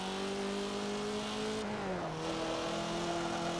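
A race car hot laps a track in Forza Motorsport 7, its engine holding a steady high drone before dropping pitch briefly under braking or a shift, then settling again, loud and alone.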